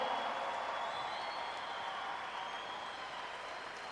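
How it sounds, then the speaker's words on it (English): Audience applause fills an arena during a hockey jersey retirement ceremony, a steady, even wash of clapping from a large crowd that holds at constant loudness and tapers only slightly over four seconds. "One more round of applause, ladies and gentlemen."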